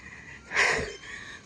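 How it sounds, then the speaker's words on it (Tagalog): A sharp, heavy breath from a jogger in a large park, one loud gasp-like exhale rising briefly and then fading over a faint outdoor background, with no talking. "Kaumpisa ko pa lang pero hinihingal na ako."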